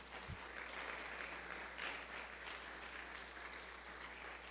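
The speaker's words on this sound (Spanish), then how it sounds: "Le puedes dar un aplauso al Señor" During a Spanish-language church service, the congregation gives a sustained round of applause, a dense, even clatter of many hands that holds steady throughout, with a low hum beneath.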